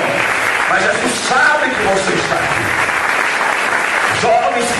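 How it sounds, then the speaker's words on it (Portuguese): A church congregation breaks into sustained, fairly loud applause, a dense clatter of many hands that continues steadily with voices mixed in. "Vamos dar um aplauso para o Senhor Jesus por cada vida que está aqui"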